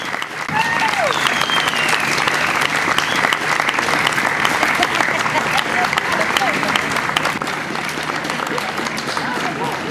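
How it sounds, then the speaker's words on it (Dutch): Sustained loud applause from a crowd at a comedy talent contest in Sittard, Netherlands, dense clapping throughout with a few voices mixed in. "Geef ze een applaus."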